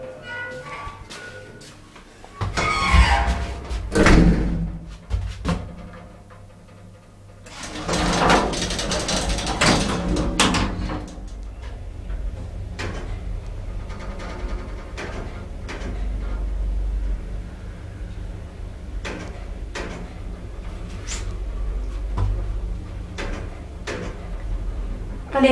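A very old Sicem elevator in a building on Ben Gurion Road in Bat Yam gives off mechanical clatter, ratcheting and gear sounds. Its doors slide and its works clunk in bursts at moderate loudness, with scattered clicks between them.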